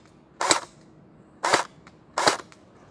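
A Splatrball gel blaster firing in single fire mode gives three sharp, loud snapping shots at uneven intervals, close by, each a short crack with brief decay and quiet between shots.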